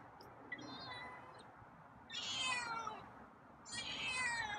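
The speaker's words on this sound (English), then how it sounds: "Slightly more enthusiastic meows, huh?" A feral cat meows three times, well spaced, each call rising and drawn out, close by and fairly clear, with quiet room noise in between.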